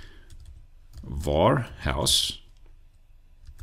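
Soft, scattered keystrokes on a computer keyboard while Dart code is entered, quiet clicks tapping before and after a man's nearby speech.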